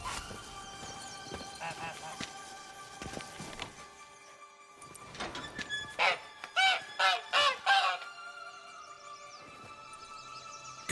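Goose honking in The Witcher 3: Wild Hunt, Blood and Wine: a burst of five or six loud, nasal honks in quick succession midway, following softer game ambience and faint clip-clop, with speech present.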